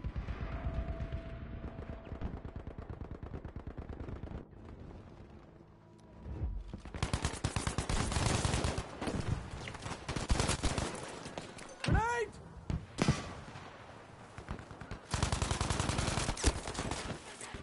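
Gunfire in a shooting video game played with a Sony-licensed PS4 gaming mouse cracks out in rapid bursts and single shots, loud and dense in places, with short quieter gaps between volleys and some talking in the background.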